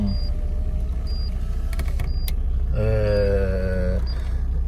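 A Fiat Tempra Turbo driving along with steady low engine rumble and road noise throughout, with faint clicks and a brief higher whine rising near the middle.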